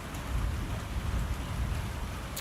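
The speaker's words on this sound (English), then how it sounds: "you can hear the rain" Steady rain falling outdoors, a continuous dense hiss with a low rumbling wash underneath, even and unbroken throughout.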